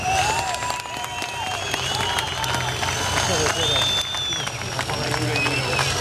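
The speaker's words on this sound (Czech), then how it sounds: "On chce váš potlesk. Pokud nebudete tleskat," Sustained audience applause and crowd noise at a truck trial competition in Milovice, with clapping filling the whole stretch and an announcer's amplified voice and whistles over it.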